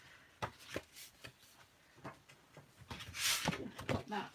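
Card stock is scored and cut in half by hand for a stamping project, giving several short crisp snips and paper rustles at irregular intervals, close by, with a louder sustained cutting scrape near the end and no voice.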